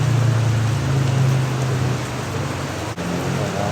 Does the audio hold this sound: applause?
no